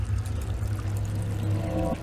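Water pours down steadily like a shower in the video game Amnesia: The Dark Descent, a continuous low, hollow splashing rush at moderate level that holds evenly for about two seconds before stopping abruptly.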